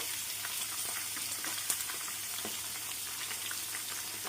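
Prawns frying in a pan give a steady, fairly quiet hiss and crackle throughout, with a few faint stirring clicks and no voices.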